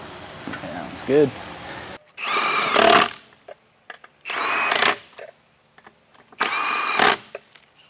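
Impact wrench torquing down the wheels on a 2022 Genesis Supreme trailer, three loud close bursts of whirring and hammering separated by pauses, with a short quieter stretch before them.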